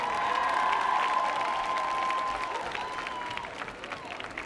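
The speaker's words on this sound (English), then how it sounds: "So give them one more round of applause." Audience applause with some cheering rises for step dance performers at a family night show on the Millennium Stage, a dense crowd clapping that stays steady and gradually fades.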